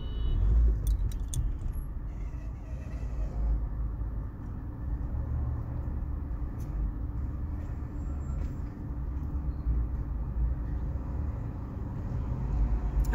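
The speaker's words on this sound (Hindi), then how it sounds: "अभी भी बस ट्रैफिक में ही हूँ यार, slowly slowly slowly slowly office जा रही हूँ।" Steady road rumble and engine drone from inside a car crawling through slow traffic on the Sharjah highway, a constant low wash of tyre and motor noise with a few faint clicks.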